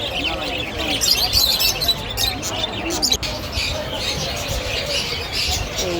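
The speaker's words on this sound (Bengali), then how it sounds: "এই দেখেন একসাথে কতগুলা পাখি, অনেক শব্দ হচ্ছে" Many caged birds at a bird market chirp and tweet continuously, bright overlapping calls with occasional squawks and a wing flutter, over a dense background of market noise and distant voices.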